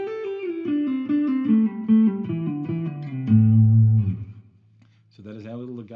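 Electric guitar playing a legato lick, a smooth run of connected notes stepping downward and settling onto a low held note, fairly loud and clear, followed by a short stretch of a voice starting to talk at the end.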